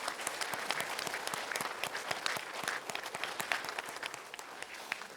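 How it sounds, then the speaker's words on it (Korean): A church congregation claps together in steady, dense applause that holds at an even level throughout, with no one speaking over it. "하나님께 큰 박수로 한번 영광 올려드리겠습니다"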